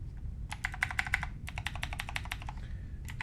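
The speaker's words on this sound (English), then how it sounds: "So I can hit a number key and" Keys clack on a Nanoxia Ncore Retro aluminum keyboard in quick bursts of sharp, close taps, a rapid run of strokes followed by a brief pause, over a low steady background hum.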